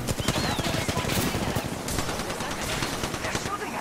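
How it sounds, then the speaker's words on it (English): Rapid automatic gunfire from an Apex Legends match chatters continuously in dense bursts, loud and close. "They're shooting at me."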